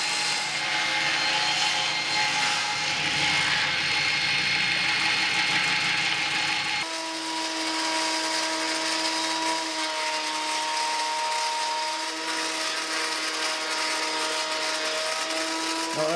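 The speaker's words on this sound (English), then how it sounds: "I'm gonna rip it into 1-inch strips." Table saw ripping a walnut board into 1-inch strips after planing, a loud steady saw whine filling the whole stretch with a shift in tone partway through as the cut proceeds, no talking.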